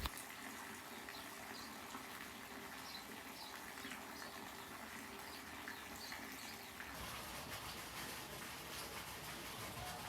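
Water pours steadily into a large fish pond aquarium after cleaning, a faint continuous rushing and bubbling gush that shifts slightly in tone partway through.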